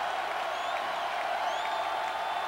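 Capacity stadium crowd at a 1982 Tennessee versus LSU college football game, a constant distant roar of spectators with no clear breaks, fairly faint and even throughout.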